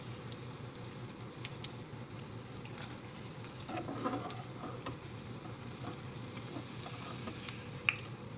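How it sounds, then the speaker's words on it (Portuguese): Dough pieces frying in oil in a pan, a steady close sizzle with light crackles and occasional stirring clicks throughout, no voices. "E vou fritar toda a massa da mesma maneira."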